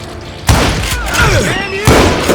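Sharp gunshots in the Western shooter Call of Juarez Gunslinger, set in a saloon: two loud cracks about a second and a half apart, with a voice talking over the scene between them.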